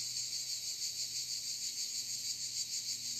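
Cicadas buzz in a steady, pulsing drone through the whole stretch, loud and continuous, with a faint low hum underneath, heard outdoors at the end of summer during a chair yoga session.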